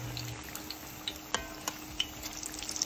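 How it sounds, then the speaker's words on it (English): Potato latkes fry in hot oil, giving a faint, steady sizzle with scattered soft pops and crackles spaced irregularly throughout. "Fry them in the oil."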